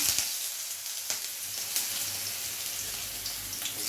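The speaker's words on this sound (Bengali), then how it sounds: "কড়াইতে তেল দিয়ে দিয়েছি তেল গরম হয়ে গেছে এখন আমি আলুগুলো দিয়ে দিচ্ছি" Potatoes drop into hot oil in a wok and sizzle, a steady hissing fry with a few sharper crackles and pops, fairly close and without voices.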